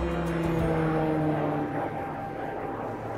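Propeller airplane passing overhead near a campsite, a droning engine tone that is loud at first and then fades and drops away as it moves off.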